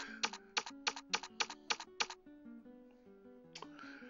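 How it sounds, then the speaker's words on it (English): Arrow keys on a computer keyboard are pressed to tune a radio receiver's frequency: eight quick, evenly spaced clicks, then a pause and one more click, while steady receiver tones step lower beneath them. "let's press the down arrow several times and watch the frequency go down in 1 Hz steps"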